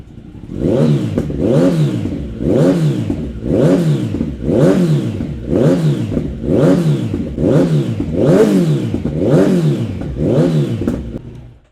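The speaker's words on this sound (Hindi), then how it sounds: "तो इसके अंदर हमने लगाया एक्सिल का हेडर और एरो लॉन्ग कैन। काफ़ी बेसी साउंड है और अच्छी साउंड है" A Kawasaki Ninja 1000SX fitted with an Axle header and Arrow long can blips its throttle repeatedly, about ten even rev surges in a steady rhythm, deep and bassy, close and loud with no talking.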